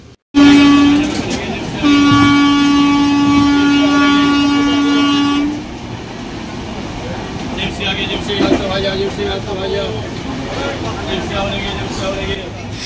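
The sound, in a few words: Howrah to Digha Kandari Express train running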